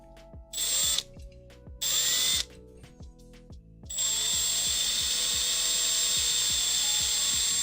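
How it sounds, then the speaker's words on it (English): A power drill bores holes in a CNC mill setup, whining in two short bursts and then running steadily, with a rapid rhythmic ticking underneath throughout. "Or I could just drill holes."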